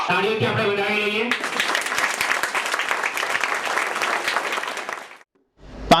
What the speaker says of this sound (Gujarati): તાળીઓથી આપણે વધાવી લઈએ.